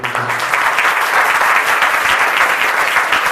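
Church congregation clapping together during a Hindi worship service: dense, loud, sustained applause from many hands filling the room without pause, with no voices over it.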